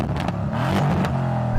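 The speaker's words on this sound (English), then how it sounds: "apologise to the owner of this car, Darren, for doing that and bouncing it off the limiter" A Mercedes C63 engine revs hard and repeatedly hits the rev limiter, producing a stuttering, bouncing roar up close with no one talking.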